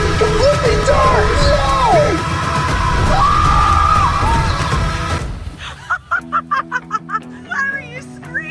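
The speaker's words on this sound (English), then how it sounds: "Why were you screaming like that?" A person screams and yells loudly inside a dark enclosed water slide, with sustained echoing cries over rushing water, and shorter bursts of shouting follow.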